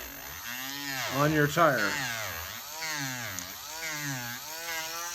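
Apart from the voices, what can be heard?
Dremel gently sanding an RC car tire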